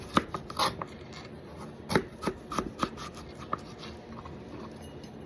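A knife slices raw sweet potatoes into quarter-inch strips on a board, with a series of irregular, close, crisp cuts and taps that thin out toward the end. No one speaks.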